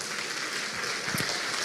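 A church congregation applauds in a soft, continuous wash of clapping that stays fairly distant and even throughout the brief moment.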